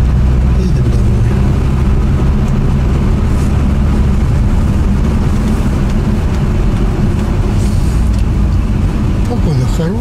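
Steady low road rumble and engine drone from a car driving home on a local road, continuous and fairly loud for the whole stretch, with no talk over it.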